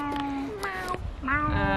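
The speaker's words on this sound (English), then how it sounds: "This is one of the baddest cats I've ever seen." A cat gives several short meows in quick succession, close and fairly clear, with a little background noise between calls.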